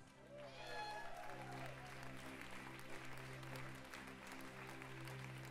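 Loud audience applause fills a live Swiss music show, a dense, steady clapping wash that stays strong throughout, with a sustained musical tone beneath it.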